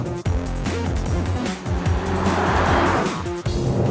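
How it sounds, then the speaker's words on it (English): A 2014 Porsche Cayenne's twin-turbo V6 exhaust under way, a loud, close engine note that climbs and falls with gear changes over steady road noise. "It doesn't have the best exhaust note around and it doesn't sound as crisp as a flat six."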